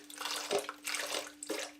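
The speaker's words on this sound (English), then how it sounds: "we're gonna put a little bit of water" Water from a tap splashes into a blender in short bursts during juice preparation, faint and close, with a steady hum underneath.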